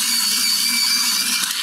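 An Afmat electric sharpener grinding a Derwent Lightfast colored pencil, a steady high whirring buzz held close and loud for under two seconds, with no voices.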